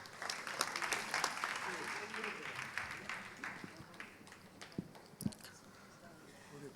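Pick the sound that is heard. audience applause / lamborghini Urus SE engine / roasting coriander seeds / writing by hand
audience applause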